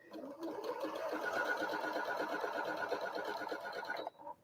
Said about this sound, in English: go ahead, sew your edge or sew your scraps here if you're so inclined